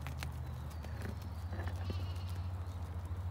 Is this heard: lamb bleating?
yes